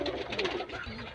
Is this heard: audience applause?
no